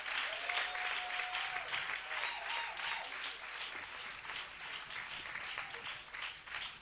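A church congregation breaks into sustained applause to welcome a sister forward, a dense, even wash of clapping from many hands that carries on for several seconds and slowly tapers, with a faint voice briefly above it.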